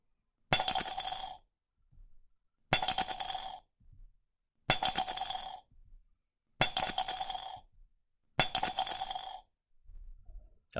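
2p coins dropped one at a time into a mug, five bright metallic clinks at steady intervals about two seconds apart, each ringing briefly, close and otherwise quiet.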